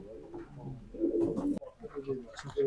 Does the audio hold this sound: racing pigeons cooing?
yes